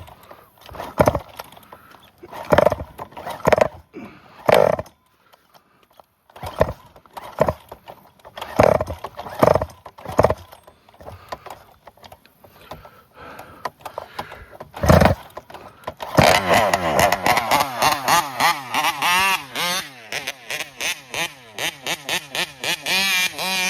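A high-revving big block engine with reed valves, hot cylinder head, blips in sharp separate bursts, then settles into a loud, steady, pulsing run near the microphone.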